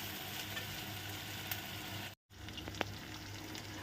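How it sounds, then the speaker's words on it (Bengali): Spices and vegetables frying in a pan with salt, a steady close sizzle broken by a brief silent gap and a couple of sharp clinks of a utensil. "নুনটা দিলে পরে কিন্তু সুন্দরভাবে এগুলো মেল্ট হয়ে যাবে, পুরো ভাজা হয়ে যাবে সুন্দর করে"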